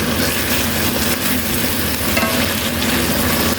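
Salmon with tomato frying in oil in a pan, a loud continuous sizzle with crackling and spattering that holds steady throughout, close up and without any voices.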